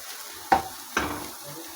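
A spoon scrapes twice through thick gram-flour (besan) gravy roasting over a low flame in a pan, with two distinct strokes about half a second apart and a soft sizzle between them.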